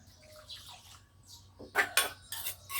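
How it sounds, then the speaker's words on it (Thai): Water splashes and pours into a pot of frog curry during morning home cooking, in a few close bursts of sloshing after a quiet stretch. "ใส่น้ำจังหน่อยเนาะ"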